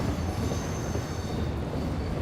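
An East Coast mainline train pulls out of the station, a steady loud rumble of wagons rolling on rails with faint wheel squeal, no voices.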